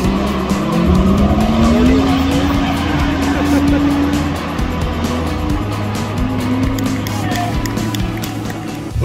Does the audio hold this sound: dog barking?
no